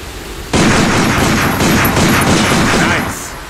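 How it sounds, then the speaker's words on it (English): Handgun fire in the Binary Domain video game, shot at a sign, bursting in suddenly and loud after a brief quiet moment and sustaining a dense, noisy roar of gunfire and effects for about three seconds before tapering off. "Take out your handgun and try shooting that sign."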